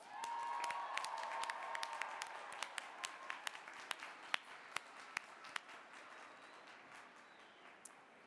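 Audience applause at a 2016 college commencement ceremony, a moderately faint crowd clapping that thins out into scattered individual claps before fading.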